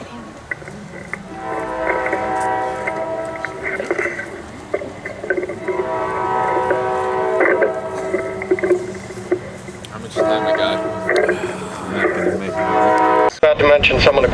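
A train rumbles past nearby, sounding its horn in long, repeated blasts over a steady rolling clatter, with voices talking in the background.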